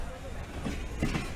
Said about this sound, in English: That was the train pulling us, and now they're turning around.